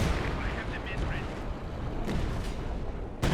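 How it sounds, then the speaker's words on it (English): A sector artillery barrage in Company of Heroes 2, on the Middle of the Rhine map, booms with scattered muffled blasts under continuous rumble, closing on a sharp loud impact. "That sector artillery is very powerful."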